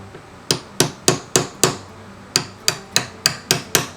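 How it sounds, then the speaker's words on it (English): Sharp metal hammer blows on a bezel set pendant held in a vise, about a dozen loud ringing strikes in a steady rhythm with a short pause midway, close and alone. "I'm about to hammer."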